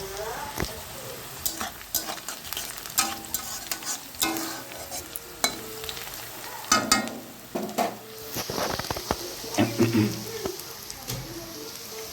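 Marinated meat tipped into hot oil already tempered with cumin, bay leaf, dried chilli and onion, crackling and sizzling with stirring and utensil scrapes across the pan, loud and close with bursts of frying throughout.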